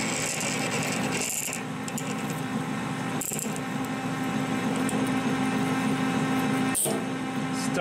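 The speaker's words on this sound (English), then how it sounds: "the drill bit catches and sticks and then spins in the chuck" Steady grinding whir of a drill bit cutting into titanium, continuous and close, with a few sharp catching clicks as the bit catches and spins in the chuck.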